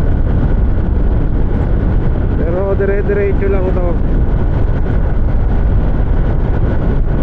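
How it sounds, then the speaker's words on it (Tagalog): Loud, constant wind roar buffets the microphone throughout on a fast scooter ride on an open mountain road in Benguet, Philippines, with someone speaking briefly over it. "Malakas lang yung hangin"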